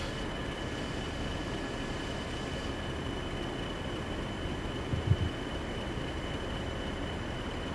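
Heavy loaded Class 40 diesel oil train in Train Sim World 3 beginning to roll on a hill, a steady low rumble and hiss with a faint clunk near the end, no talk.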